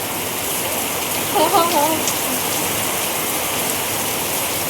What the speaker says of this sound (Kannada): ಮಳಿ ನೋಡ್ರಿ ಮಳಿ ಬರಾಕತೈತಿ